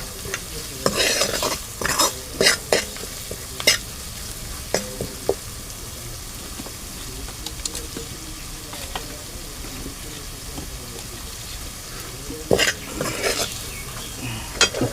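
Onion frying in oil with ground masala paste while a spoon stirs the pan, with a low continuous sizzle broken by repeated sharp scrapes and clinks of metal against the pot.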